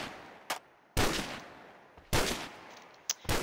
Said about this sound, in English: let's check out the Dragunov